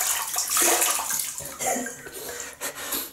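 Tap water runs steadily while someone rinses during a wet shave with a 1966 Schick Krona double-edge razor and Clubman Pinaud shaving soap, a continuous close splashing hiss with small shifts in flow.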